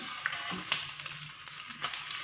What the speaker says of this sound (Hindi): इसकी सिर्फ अंडा फ्राई होना होता है।